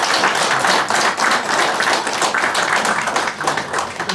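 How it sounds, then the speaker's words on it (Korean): An audience at a forum lecture applauds to welcome the speaker, a steady wash of many hands clapping at moderate level for several seconds. "큰 박수로 환영해 주시기 바랍니다"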